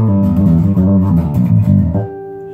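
Music Man StingRay bass heard through a Ken Armstrong piezo pickup with flat EQ plays a short loud run of notes, then one tone rings out and fades.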